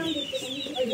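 A chicken clucks briefly and fairly close, a short burst of throaty, warbling calls.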